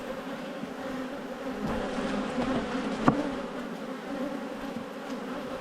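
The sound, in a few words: honey bees buzzing around open hive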